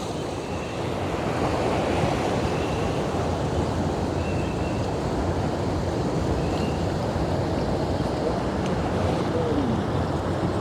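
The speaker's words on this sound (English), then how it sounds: "Nice breeze off the ocean." Steady ocean surf and breeze at a seaside boulevard in the Philippines, a continuous broadband wash of waves with wind buffeting the microphone, fairly loud and unbroken throughout, with no talking.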